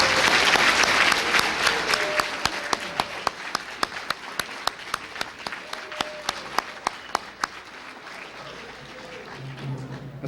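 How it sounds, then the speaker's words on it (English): Applause for seniors at a rocket club awards ceremony fills the room, starting dense and loud then thinning into scattered individual claps that fade toward the end. "Let's give them a round of applause."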